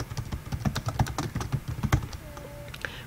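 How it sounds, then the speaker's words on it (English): Steady typing on a computer keyboard, with quick, uneven clusters of key clicks close to the listener and a brief faint tone near the end. "I now type the title of my paper"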